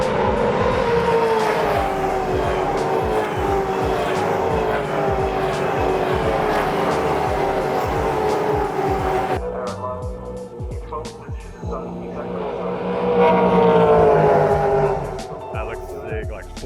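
V8 Supercars race at Bathurst, leaning hard into a corner with a loud, rising and falling engine roar that drops off and then swells again as another car passes, with people talking over it.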